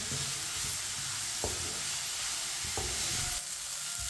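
Chinese kebab mixture cooking over medium heat while stirred with a spoon, a faint continuous sizzle with occasional scraping strokes and a couple of soft knocks, no voices.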